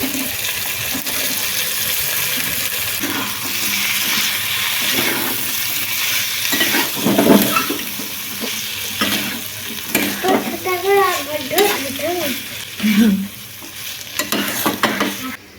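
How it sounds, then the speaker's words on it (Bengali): Pond snails and chopped potato are stir-fried in a home kitchen pan, giving a steady sizzle with scraping stirs that grow louder and busier midway through, with clattering spoon strokes near the end. "সঙ্গে খানিক্ষণ গুগলি কষিয়ে নিয়ে এবারে দিয়ে দেবো কেটে রাখা আলু কুচি"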